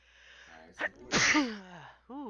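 A single sharp sneeze bursts out loudly and close, framed by people talking casually just before and right after it.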